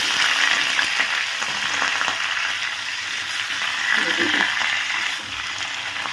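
Vegetables fry in a pan with salt, sugar and chili for a chachchari, giving a steady close sizzle and hiss that runs throughout, with faint stirring and a voice talking underneath.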